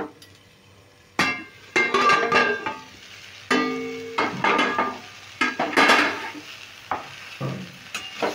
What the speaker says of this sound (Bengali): এবার আমি ঢাকাটা খুলে নেব।